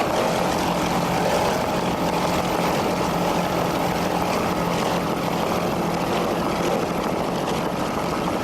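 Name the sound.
26-foot Scarab powerboat engine racing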